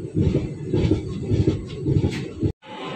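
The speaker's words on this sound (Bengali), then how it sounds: "তো ট্রেন 15 মিনিট লেট, নির্ধারিত টাইমের থেকে 15 মিনিট লেটে চলছে।" A moving passenger train heard from on board, with a steady low rumble and rhythmic clatter of wheels on the rails that is loud and close, then cuts off abruptly near the end.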